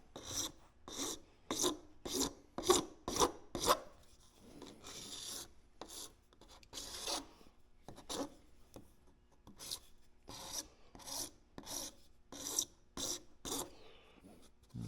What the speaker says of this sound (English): holding your file at an angle, just go around the outside. Take off any burrs where your hacksaw is.